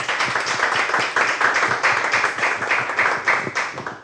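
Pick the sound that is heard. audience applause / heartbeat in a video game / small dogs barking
audience applause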